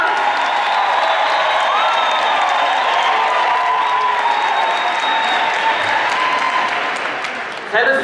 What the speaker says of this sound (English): So I need you to give me a big round of applause. Loud noise, whistle,